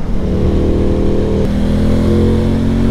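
An Aprilia Tuono 660 Factory motorcycle being ridden, its engine droning loud and steady with a slight shift in pitch midway, heard up close without talk.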